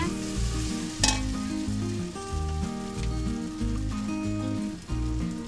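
Frying in a pan for a bata fish and loti curry with turmeric, a low continuous sizzle with an occasional sharp scrape, set under prominent background music.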